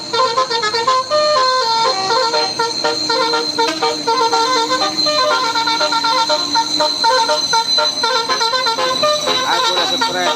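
Basuri bus horn on the Sitinjau Lauik mountain road, a loud melodic multi-tone telolet tune playing in rapid repeated note patterns throughout, close and dominant.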